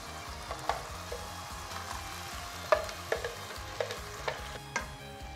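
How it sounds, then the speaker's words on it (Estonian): Broth is poured into a pan and simmers for a red wine sauce. It makes a soft, steady sizzle broken by light scraping and clinking of a utensil stirring in the pan, with no talk. "me paneme selle puljongi siia sisse"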